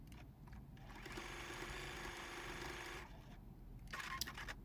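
Sewing machine runs in a steady close mechanical whir while quilting seams on a pin cushion, pausing briefly before starting up again.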